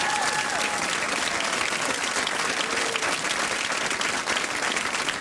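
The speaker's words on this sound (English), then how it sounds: "Give her a big round of applause." A television studio audience claps loudly and steadily, a dense wash of applause sustained throughout with faint crowd noise.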